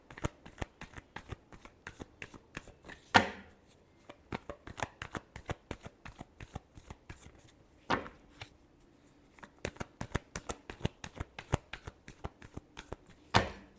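A deck of tarot cards is shuffled by hand in a steady run of soft, rapid riffling flicks, close and fairly quiet, with a few louder bridge or tap sounds marking pauses between passes.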